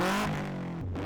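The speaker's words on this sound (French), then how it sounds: "les moteurs ont rugi" Car engines at a champions' race on a stadium parking area, a loud revving drone with the pitch falling and then shifting down as one passes close.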